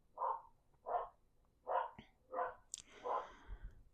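Neighbor's dogs bark in about five evenly spaced woofs, moderately close, with a brief sharp knock partway through and no talking.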